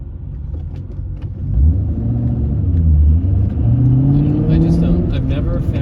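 A Ford Mustang Mach 1 cruising on the road hums low, then swells into a deeper, louder engine rumble that holds steady, heard from inside the car.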